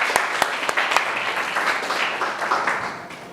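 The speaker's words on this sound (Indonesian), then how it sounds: "tepuk tangan dong." Schoolchildren in an Indonesian classroom applaud together at the end of a lesson, a steady wash of many small hands clapping with a few sharper nearby claps, continuous and fairly loud, no voices on top.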